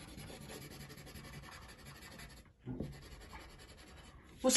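Something colors in a paper circle drawn for a cutting craft, giving a soft continuous scratchy rubbing that pauses briefly and then resumes, close and fairly quiet.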